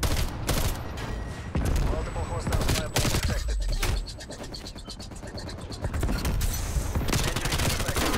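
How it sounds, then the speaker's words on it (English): AK-74U and other automatic gunfire in Call of Duty Black Ops Cold War multiplayer, dense loud bursts and rapid shot strings with short gaps, plus mechanical clicks and game effects. "That dude was going at me with a fucking AK-74U."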